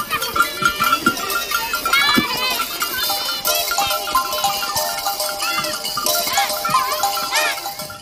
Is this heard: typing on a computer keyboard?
no